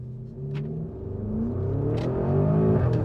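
A 2024 Porsche Cayenne with a 650-horsepower twin-turbo V8 accelerates hard, its engine note climbing steadily in pitch and loudness over a few seconds, with a deep rumble and brief whooshing bursts from the turbos.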